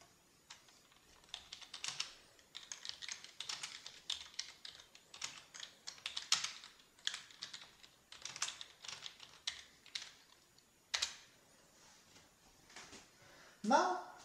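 Typing on a USB keyboard connected to a Nook HD tablet, with steady bursts of close, fairly quiet key clicks for the whole stretch and a louder knock near the end.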